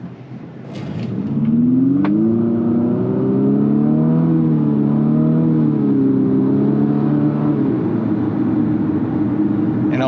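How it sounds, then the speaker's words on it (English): A 2024 Infiniti QX50 with a CVT accelerates while driving, its engine note rising in a steady, smoothly climbing drone that holds loud and continuous from the cabin for most of the stretch, with no talking. "Just kind of accelerate a little bit here."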